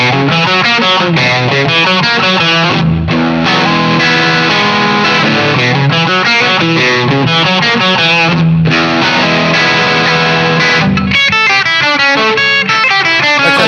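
A heavily distorted Fender Japan Telecaster on the bridge pickup plays chords and riffs, loud and saturated, with brief pauses between phrases.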